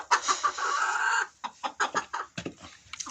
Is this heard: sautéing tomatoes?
no